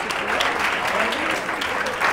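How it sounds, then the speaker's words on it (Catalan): A studio audience at a televised word-game show claps continuously, a dense, even burst of applause with no pauses. "Aquests aplaudiments volien condicionar el jurat"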